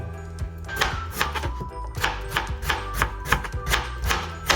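A knife slices potatoes very thin for a gratin dauphinois, with rapid rhythmic chopping strokes and clacks against a cutting board, steady and close throughout.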